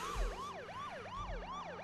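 Wailing vehicle siren from the Car Simulator 2 video game, a rapid repeating rise-and-fall yelp cycling about four times, loud and steady with no talk.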